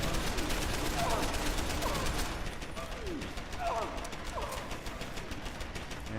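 Automated turret in the video game Deus Ex: Human Revolution shooting at a boss, a steady stream of rapid gunfire with mechanical clanks and clatter, sharper in the first half and slightly softer after, with no speech.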